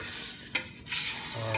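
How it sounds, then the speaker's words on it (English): Pork pochero is stirred in a cooking pot, a brief close scrape and clink of the spoon over a continuous bubbling, hissing simmer, with no voices. "Give it a good stir."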